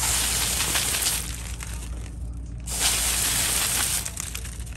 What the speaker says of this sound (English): So I'm gonna spray around and soak the guys that are already wet